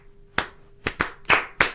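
Sharp single hand claps in a loose rhythm, about five distinct claps close by with quiet gaps between, ringing slightly in a room.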